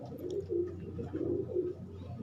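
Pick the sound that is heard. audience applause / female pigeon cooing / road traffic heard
female pigeon cooing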